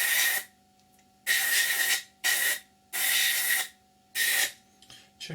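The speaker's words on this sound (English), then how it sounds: "So we'll spray the sides first." Paint sprays onto the sides of an Academy F-16I SUFA model kit in five loud, close hissing bursts separated by short pauses, with no talk.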